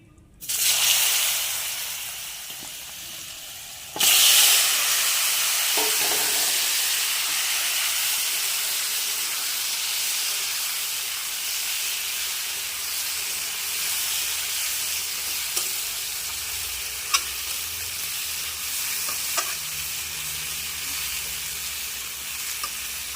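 Pieces of taro dropped into a pan where hilsa fish has just been fried set off a loud, steady sizzle that holds for a long stretch and slowly eases, with a few stirring knocks.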